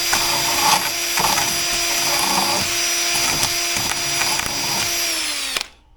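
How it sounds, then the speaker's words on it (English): A power drill whines steadily and loudly for several seconds with small rhythmic grinding pulses as it cleans out brittle wood, then stops abruptly near the end. "So I'll carry on with the drill and get it all done."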